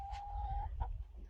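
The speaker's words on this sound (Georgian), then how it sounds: "გამოუშვათ ქათმები?" Chickens cluck faintly in the distance, two or three short calls over a low outdoor rumble.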